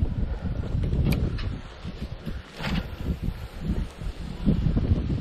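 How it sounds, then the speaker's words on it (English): Steady gusty wind buffeting the microphone beside the Potomac River, a low rumbling roar that swells and dips throughout, with no talking. "It's windy too down here"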